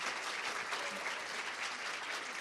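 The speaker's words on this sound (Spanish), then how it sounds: "quiero que por favor le demos un fuerte aplauso a mis compañeros" An audience at a nursing symposium applauds steadily, a dense, even wash of clapping from many hands filling the room without pause.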